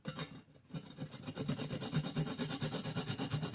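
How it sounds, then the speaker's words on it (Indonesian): Ingredients, freshly washed, being grated finely on a hand grater as part of a cheap home cough remedy: steady rhythmic rasping strokes, close and continuous after a brief pause near the start, with no talking. "kita parut teman-teman, parut sampai halus"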